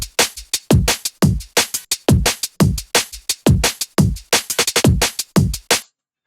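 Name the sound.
drum and bass drum beat sample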